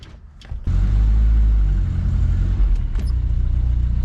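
A 1979 Chevy LUV pickup engine cranks and catches, then settles into a loud, steady low rumble close by, with a brief rev blip near the end.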